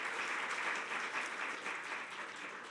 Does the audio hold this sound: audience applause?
yes